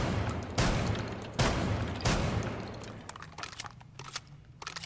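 Thermite elite skin weapon in Rainbow Six Siege firing several loud, sharp shots in quick succession, then quieter mechanical clicks and clacks of a reload.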